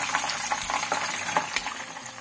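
Chicken pieces frying in hot oil for chicken Manchurian, a steady close sizzle with bubbling and faint utensil stirring throughout, no voices.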